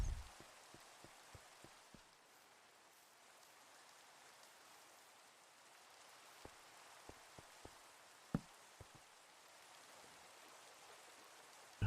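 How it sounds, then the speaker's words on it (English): Steady rain hiss with scattered sharp drops ticking in short clusters near the start and again later, fairly quiet and even throughout. "More rain."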